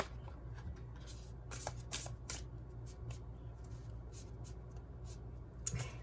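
Cards are drawn from a tarot-style deck, giving soft, close rustling and brief papery flicks and slides, quiet and intermittent with a few sharper snaps and no talking.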